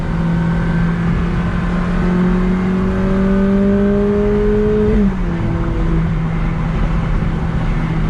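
A Ferrari F430 on throttle gives a loud, steady engine drone from inside the car that climbs in pitch, then drops sharply at a shift and settles into a lower hum.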